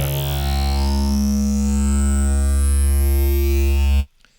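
A sustained synthesizer tone, part of a soundtrack for Ex Machina, moves through different waveforms, with a rich buzzing harmonic texture and a rising sweep on top. It plays loud and steady for about four seconds, then cuts off abruptly.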